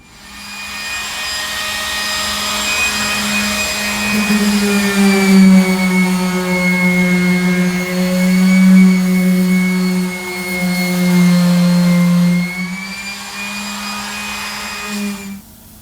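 A power sander working over the transmission tunnel of a 1969 GTO convertible, a loud, steady droning whine that shifts pitch slightly as pressure changes, close up and continuous, then spins down near the end with no talking.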